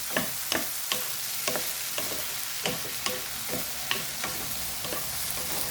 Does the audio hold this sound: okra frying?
yes